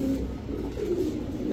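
A male pigeon, one of a flock of high-flyer Giribaz pigeons, coos in a low, continuous rolling murmur, close and steady throughout with no talking.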